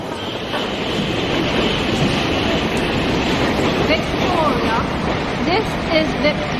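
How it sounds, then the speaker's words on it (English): Boat train from Dover pulling into a London Victoria platform, a steady loud rolling rumble of wheels and carriages with faint squeals and clanks, speech murmuring underneath. "The train arriving at platform 5 is the boat train from Dover."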